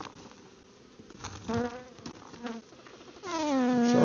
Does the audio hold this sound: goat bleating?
no